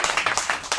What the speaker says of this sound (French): Vous applaudissez quand même.